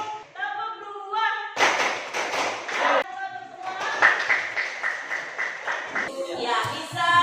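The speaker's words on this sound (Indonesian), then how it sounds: "kita akan tepuk dua" Students clap together in a classroom in quick rhythmic bursts, with a teacher's voice and chanting between and over the clapping.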